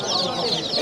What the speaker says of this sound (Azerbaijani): Yaxşı cücələrdir